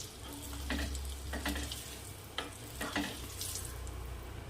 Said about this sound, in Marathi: हा मसाला यामध्ये फिरवून घ्यायचा आहे असा चम्मचने